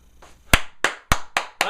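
Hand claps ring out alone, five sharp, loud claps in a slightly uneven rhythm about a quarter second apart, preceded by a brief soft rustle.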